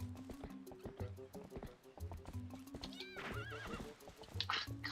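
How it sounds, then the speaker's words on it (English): A horse in the game Twilight Princess HD gallops with rhythmic clip-clop hoofbeats, then lets out a clear, rising whinny midway, with a second neigh near the end, all close and prominent. "Use a horse and jump over the fence."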